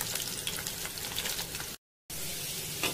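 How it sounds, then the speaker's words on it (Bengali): Potatoes fry lightly in oil for a mutton curry, a steady crackling sizzle broken by a brief silent gap before it resumes at the same moderate level. "হালকা ভেজে নেব।"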